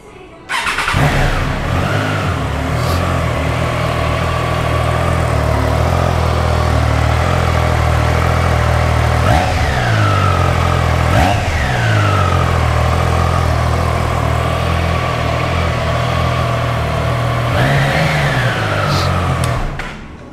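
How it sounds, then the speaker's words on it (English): A Triumph Trident 660 inline three-cylinder motorcycle engine starts and settles into a loud, close, steady idle with a gruff rumble, broken by several quick throttle blips that rise and fall sharply. "So you can feel that inline 3-cylinder working actually. The sound looks so good, so rumbling and so grunty."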